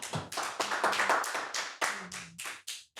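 Clapping from a studio audience in a comedy sketch: about ten separate, crisp claps in a loose, uneven rhythm, close and fairly loud, with no talking.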